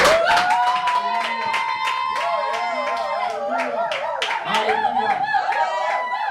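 A church congregation applauds and cheers loudly for first-time visitors, a dense, sustained clapping crowd under a speaker's voice and background music throughout.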